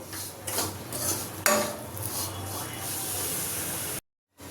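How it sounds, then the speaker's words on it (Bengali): Semolina frying in a pan while a spoon stirs it gently, giving a soft continuous hiss with scraping strokes and one sharper clink near the middle, no talking. "দেখো আমরা ভাজছি, এটা হালকা হালকা করে একটু নেড়ে নিতে হবে"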